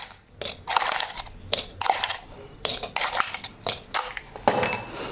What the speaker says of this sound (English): let's add a lot of ice in here